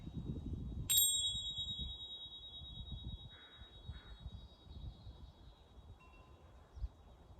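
A single tingsha bell struck once, a bright metallic ping that rings on with a long, steady fading sustain over quiet room noise, with a soft rustle or two afterward.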